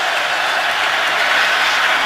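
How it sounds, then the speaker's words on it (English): A football stadium crowd in Baltimore roars steadily on third down during a Bengals at Ravens game, a dense, loud, unbroken wash of noise. "It's 3rd and 10 with the crowd making some noise here in Baltimore."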